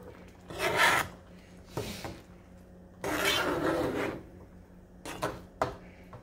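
Cooking rice is stirred in a pot, a series of scraping, rasping strokes of a utensil against the pot with short pauses between, close and moderately loud.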